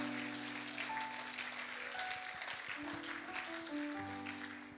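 A church congregation applauding, sustained clapping at a moderate distance over a held organ or keyboard chord, no speech.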